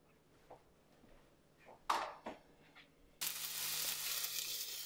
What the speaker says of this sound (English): we're just gonna let all this saute for a minute